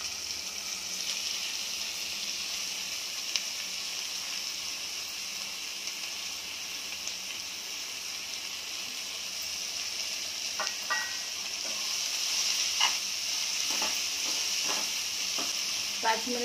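Onions fry over high heat in a pan alongside green chillies, a steady, moderate sizzle that runs throughout, joined in the second half by a string of clicking spatula stirs against the pan.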